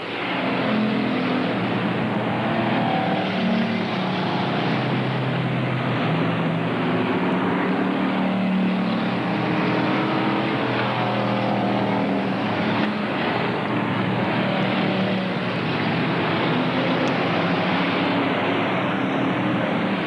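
Stock cars in a 250-lap enduro at Cowtown Speedway, 1997, roar continuously around the track, a dense steady engine drone with passing cars swelling and fading, loud and unbroken for the whole stretch.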